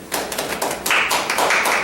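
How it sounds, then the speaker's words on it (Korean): An audience at a Korean talk-show interview claps briefly, a quick patter of hands at close range that swells slightly and continues for under two seconds with no talking. "박수 한번 쳐주세요."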